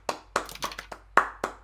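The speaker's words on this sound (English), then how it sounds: "Round of applause, everyone." A handful of people clap briefly on a podcast, a sparse run of about seven separate sharp hand claps, close and dry, with no talking.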